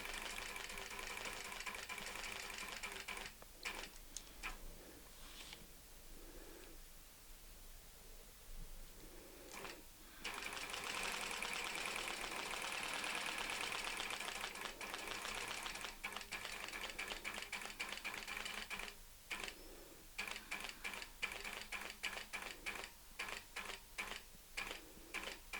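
A domestic sewing machine stitches a curly-Q quilting design along a ruler template, its needle running in rapid ticking bursts with short pauses and restarts, close and steady with no talking.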